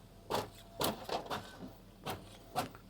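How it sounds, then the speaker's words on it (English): A Brother MFC-J6947DW business multi-function inkjet printer at work printing a page, giving a series of short mechanical whirs and clacks in an irregular rhythm, fairly quiet and close, with no talking. "Let's just send something from the computer over to the printer."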